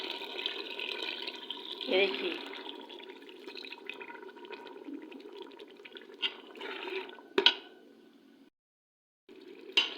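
Water is poured a little at a time into potatoes and peas frying in a pot for a dhaba-style aloo matar curry, with splashing and sizzling running under a person talking.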